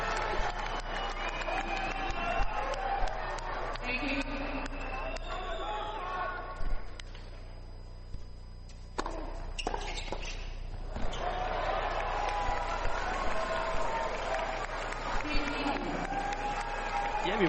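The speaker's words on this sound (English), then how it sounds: "crowd is getting louder and louder." A large crowd murmurs and cheers in a big venue at a 2024 Davis Cup tennis match, dipping briefly mid-way before swelling again. A commentator talks over it.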